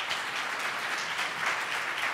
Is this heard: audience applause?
yes